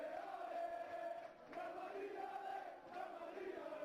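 A faint stadium crowd in a PES 2021 football match gives a low, steady murmur that swells gently a few times without any sharp cheer.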